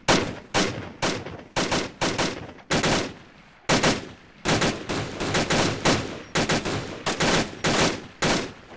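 Rapid bursts of automatic gunfire from ArmA 2 Operation Arrowhead, loud and close, firing in repeated short volleys separated by brief gaps across the whole stretch, with no talking.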